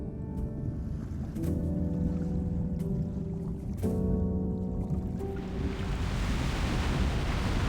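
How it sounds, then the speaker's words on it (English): Ocean waves in the video game Love and Deepspace wash and roll steadily with a broad hiss, layered under soft tonal game music that fades into rushing surf. "It's the waves. They're just too strong."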